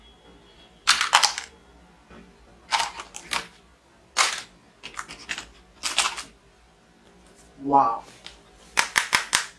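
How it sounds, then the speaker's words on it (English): An Indian local plastic toy gun fires in rapid bursts of sharp, clattering ratchet clicks, with several separate volleys spaced over a few seconds and a brief spoken exclamation in between. "Indian local plastic toy gun."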